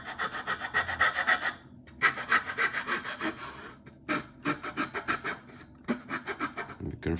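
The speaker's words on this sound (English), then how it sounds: "be careful not to sand parts of the deck away" Hand sanding of the planked wooden deck on a Fram model ship, heard as a close series of rhythmic rasping strokes in several bursts separated by short pauses.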